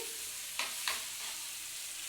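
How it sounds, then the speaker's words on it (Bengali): Bombay duck fish frying in a pan, a steady soft sizzle with two brief scraping stirs, close and quiet. "লোটে মাছটাকে একদম যতক্ষণ লাল লাল করে না ভাজা হবে"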